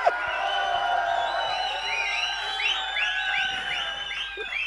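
Audience at a press event cheers and whoops continuously, with rising excited shouts layered over a steady crowd roar, fairly loud and close.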